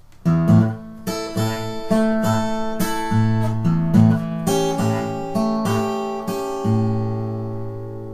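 Fingerpicked acoustic blues guitar playing a blues tune, with a steady thumbed bass line under plucked treble notes and chords, played alone at a relaxed pace.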